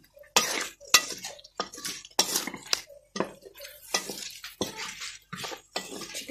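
Sausages and macaroni are stirred in a cooking pan with a spoon, giving repeated sharp metallic scrapes and clinks in an uneven rhythm, close and fairly loud with brief quiet gaps and no speech.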